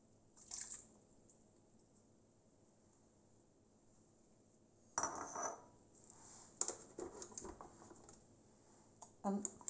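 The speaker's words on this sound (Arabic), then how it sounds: "نخلطو مزيان هاد المكونات" Ricotta and milk are stirred together in a bowl, heard as faint, soft squishing and light clinks of a utensil in scattered bursts, with a quiet voice in the background.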